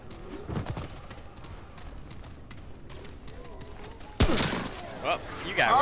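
A handful of gunshots crack in the video game Remnant, some scattered early and a louder burst near the end, over a low game background with voices talking.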